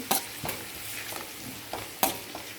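Ginger garlic paste frying in a pan for tomato bath, with a soft continuous sizzle broken by a few sharp scraping strokes of a spoon stirring it, close and steady, no voices.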